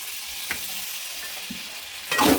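Boiled potatoes for bhungra bateta are stirred with lemon juice in a pan, a soft continuous hiss with a couple of light taps, then a brief louder scrape of mixing at the end.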